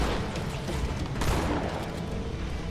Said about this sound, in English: a shotgun blast to the head does remove the shield as well